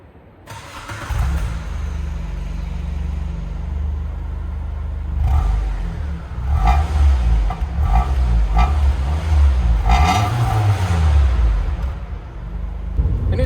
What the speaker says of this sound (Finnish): Mutta pistetään auto käyntiin ja katsotaan millaiset äänet siitä kuuluu.